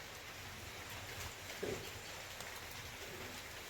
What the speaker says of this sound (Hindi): वो अभी तक रिमझिम बारिश हो रही है।